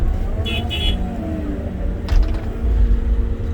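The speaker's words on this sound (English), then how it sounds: "So now the truck drove away." A heavy truck at an excavation site pulls away with a steady low engine rumble and some mechanical creaks, a brief higher horn-like tone early on and a louder surge of engine noise near the end.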